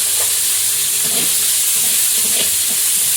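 Dal being tempered in hot oil with dried red chilli, panch phoron and spices, giving a loud, steady, close hiss and sizzle with faint bubbling, heard alone without voices.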